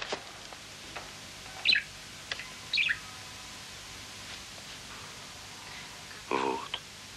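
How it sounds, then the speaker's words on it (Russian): A parrot gives three short, bright chirps in a quiet room: two close together early on, then a longer call near the end, each separated by soft background rustling. "Я попугая принес."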